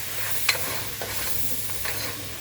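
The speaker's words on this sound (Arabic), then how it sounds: "وهشوحهم" Shrimp and crab stirring in a hot pan with salt, cumin and seven-spice, a steady close sizzle broken by a few sharp scraping stirs, with no talk.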